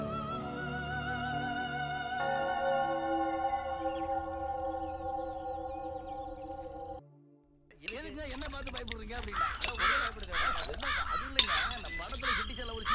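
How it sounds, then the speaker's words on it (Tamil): Crows caw repeatedly in the morning, loud, harsh calls in quick irregular bursts coming right after a stretch of music and a brief pause. "காலையில இருந்து காக்கா கத்திக்கிட்டே இருக்கு"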